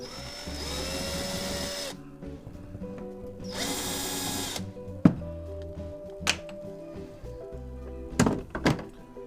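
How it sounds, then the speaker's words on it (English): A power tool undoes the bonnet bolts on a Lotus Elan M100, with two loud whirring bursts followed by sharp metallic clunks and knocks as the bolts and bonnet are handled nearby. "undo these bolts"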